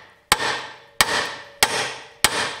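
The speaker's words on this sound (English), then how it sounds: "Now we're going to whack it a few times, trying to break the taper." Hammer striking a Lexus IS200 ball joint to break its taper, four sharp metallic whacks spaced about two-thirds of a second apart, each ringing briefly, close and alone.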